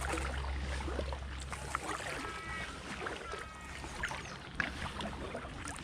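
Aquaglide Expedition 85 packraft paddled through a canal marina, with soft, steady water splashes and paddle strokes close by over a constant low background rumble.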